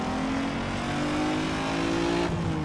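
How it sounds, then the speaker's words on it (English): Loud, continuous engine roar from a modded car in the video game Need for Speed Most Wanted, a rough sustained rev with a low pitch that cuts off abruptly near the end. "Yeah, the engine's definitely modded"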